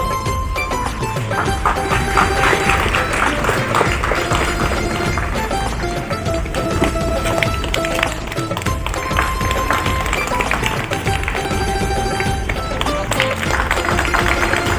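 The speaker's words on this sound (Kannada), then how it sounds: "ಚಪ್ಪಾಳೆ ಬರಬೇಕು. ಜೋರಾಗಿ ಚಪ್ಪಾಳೆ." Sustained, dense applause from a large crowd at a Republic Day prize-giving fills the whole stretch, steady and loud with no pauses.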